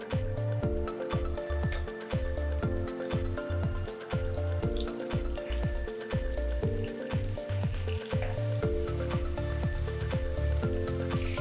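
Salmon frying skin side up in two tablespoons of olive oil, a steady, dense sizzle and crackle with scattered pops over background music, with no voices.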